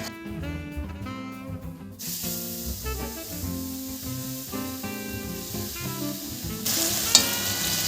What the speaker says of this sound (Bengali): এবার আমি এটা আস্তে আস্তে তেলের মধ্যে ছেড়ে